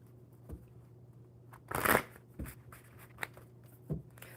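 A deck of cards is shuffled at close range, giving a short burst of riffling crackle in the middle between a few soft taps and handling sounds, against a quiet background hum.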